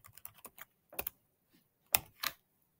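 Several short bursts of keystrokes on a computer keyboard, clustered taps with brief pauses between, close and fairly quiet, entering a product name into smart vending machine software.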